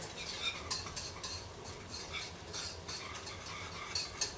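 A whisk scrapes and stirs sauce in a pan for a garlic Parmesan chicken and rice meal, making soft, quick metallic scratches in short rhythmic bursts. The sound is faint and close with no talking.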